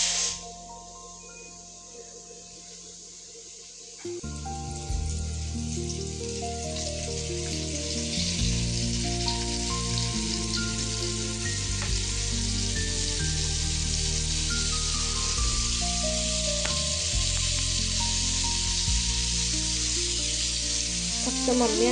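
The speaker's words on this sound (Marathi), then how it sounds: "बोंबील सगळे तळून घेते." Flour-coated bombil (Bombay duck fish) frying in hot oil, a steady broad sizzle that swells after a few seconds and holds loud throughout, with some tonal kitchen noise underneath.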